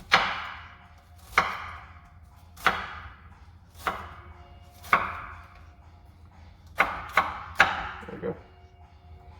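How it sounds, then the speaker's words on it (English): A knife chops through vegetables for caldo verde, a Portuguese potato and chouriço soup. Eight sharp, close cuts land on a board in an uneven rhythm, with a short spoken phrase partway through. "And then you just run your knife through."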